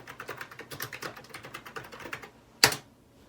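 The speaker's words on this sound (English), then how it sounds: "I'll just type in my usual." Quick, even keystrokes on a computer keyboard during a Windows 95 setup in a virtual machine, a steady run of clicks ending in one louder, sharper key press, close and alone.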